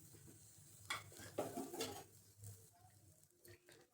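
Grated coconut dry-roasting over a very low flame in a pan, stirred with a spoon: soft scraping and clinking strokes with a faint sizzle, fairly quiet and close, with no talking.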